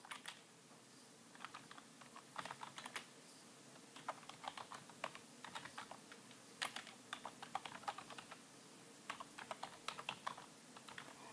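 Bursts of rapid keyboard typing, clicky keystrokes coming in quick runs with short pauses, fairly quiet and close.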